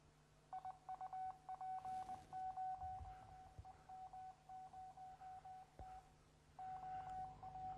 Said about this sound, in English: this is what Morse code sounds like